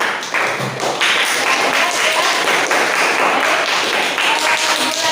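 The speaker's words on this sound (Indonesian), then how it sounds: "kita tepuk tangan untuk semuanya" Classroom applause during a mathematics lesson on circle area, with students clapping in a dense, steady patter that fills the whole stretch, loud and close, with a few sharper taps standing out.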